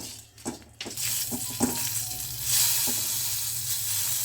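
A small amount of black mustard seeds with torn dried red chillies sizzling in hot oil for tamarind chutney, a sudden loud hiss that swells and holds with a few crackling pops, close, no talk.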